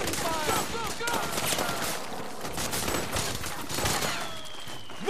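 Dense gunfire crackles in a Metal Gear Solid 4 battle in South America, with sustained overlapping bursts of automatic fire and shouted voices beneath.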